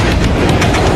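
Train in an action film, a loud, close rumbling roll with rhythmic clattering wheels, filling a single second with no talk.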